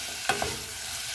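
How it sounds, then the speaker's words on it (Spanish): Onion and ham fry in a pan for a Puerto Rican dupleta sandwich, with a quick utensil scrape or two over a steady close sizzle. "Vamos a seguir mezclando."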